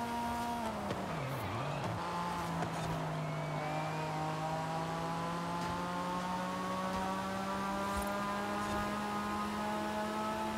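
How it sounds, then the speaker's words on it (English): Racing cars in Forza Horizon 5 drone steadily with sustained engine tones that rise and fall in pitch as gears shift, plus a brief early tire squeal, with no talk over them. "it's going to be the sound of the race"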